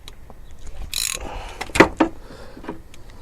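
A ratchet on an extension works the lowest starter motor bolt on a Volvo, giving a few quick clicking strokes and sharp metallic knocks close by.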